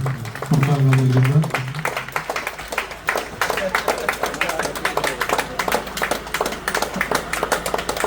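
An audience at a Palestine solidarity gathering organised by a local mosque committee in Perinthalmanna breaks into steady applause, many hands clapping in a dense, continuous patter while someone speaks over it.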